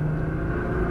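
A Nissan GT-R engine pulling hard on a race circuit, a loud, steady low drone with a rising tonal hum that fills the short moment with no talk.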